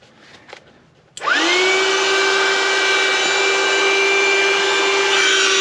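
An electric air pump starts abruptly and inflates an SUV tent for a 2021 Nissan Rogue, its loud steady motor whine rising quickly in pitch and then holding a constant drone close by.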